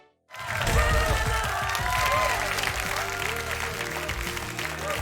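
Studio audience applause for a panel show, bursting in suddenly after a moment of silence and sustaining as dense, lively clapping mixed with some cheering and a low background music bed.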